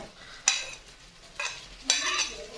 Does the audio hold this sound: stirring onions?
yes